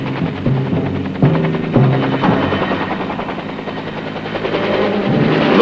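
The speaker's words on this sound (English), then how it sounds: "these engagements with the enemy were supplemented by aerial rocket artillery, as well as high-volume machine gun fire." Helicopter rotor throb mixed with rapid bursts of door-gun machine gun fire during a Vietnam War air assault, loud and dense throughout with no speech.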